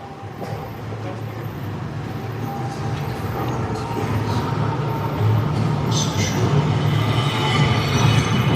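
A Universal Studios Hollywood tram ride rolls along with a steady, dense rumble of wheels and carriage noise, growing slightly louder over the stretch, with faint squeal-like tones riding on top.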